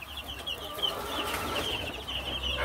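Fifteen-day-old free-range chicks chirping in a brooder, a steady high cheeping chorus that runs throughout over a low background hum.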